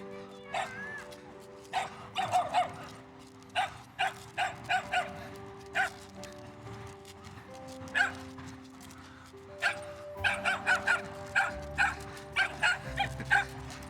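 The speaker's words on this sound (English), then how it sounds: "this dog is barking at him" A dog barks repeatedly in sharp bursts, some quick clusters of yips and barks separated by short pauses, fairly close against a low background hum.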